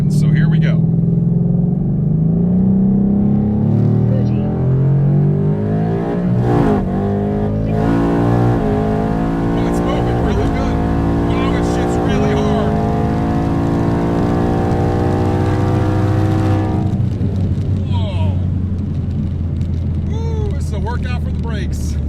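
A twin-turbo Mustang accelerating hard through a 60-130 mph test pass on roughly 6 pounds of boost, its engine note climbing steadily through the gears with loud, sustained roar and wind noise, while a person talks over it.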